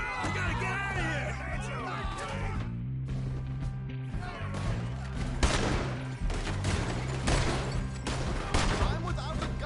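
Gunfire rattles in Red Dead Redemption 2, with repeated sharp shots and bursts of a shootout that come loud and near amid game music and shouting voices.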